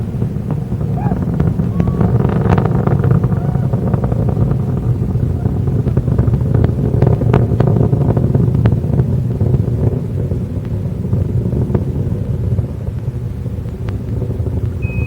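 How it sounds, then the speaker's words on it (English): Space Shuttle Endeavour's main engines roar during the STS-49 launch, a loud, continuous, deep rumbling crackle that holds steady for the whole stretch, with no voices over it. "Engines now beginning to throttle back up."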